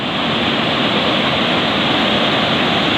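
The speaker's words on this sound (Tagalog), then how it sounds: "Ito ang waterfalls." Tili Ti Nuang Falls roars as a steady, loud wash of falling water, a dense unbroken rush close by with no pauses or voices.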